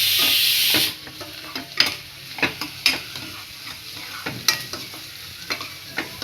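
Onions frying in a pan until red, a brief loud sizzle at first that drops to a low background fry, with repeated scraping stirs and clinks of a spoon against the pan.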